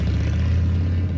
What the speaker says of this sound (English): This is the sound of a popular American motorcycle.